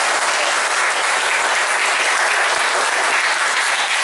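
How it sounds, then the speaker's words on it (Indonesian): Loud, dense applause from a class, continuous clapping filling the whole stretch at steady intensity without any talking. "tepuk tangan untuk Anda yang sangat super"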